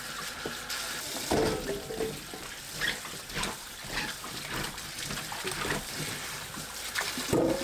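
Ginger rinsed under cold running tap water, a steady wash of splashing water with shifting handling noises throughout.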